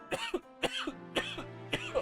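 A sudden coughing fit, four close, sharp bursts of dry coughing in quick succession with brief gaps, loud and alone.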